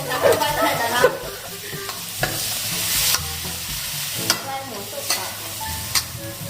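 Pork stir-fried in a hot pan, a loud, close sizzle with repeated scraping and tossing strokes of a spatula at an uneven rhythm, spoken over lightly.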